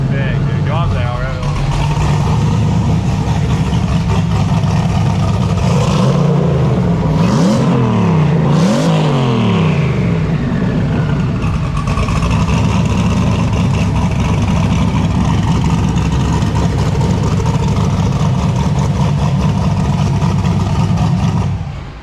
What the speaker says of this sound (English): You can snap the throttle now too and it revs.